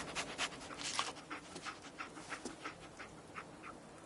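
In a video game, a tracking dog pants in quick, rhythmic, breathy puffs at close range, fairly quiet and steady with no talk.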